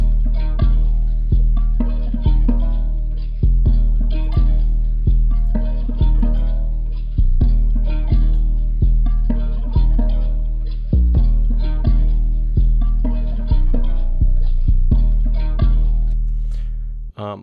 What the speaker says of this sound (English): So the final bass line sounds like this.